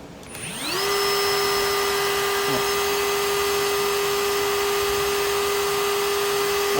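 A Milwaukee cordless screwdriver running on a swapped battery through an adapter, spinning up in under a second to a steady, loud electric whine that holds without pause.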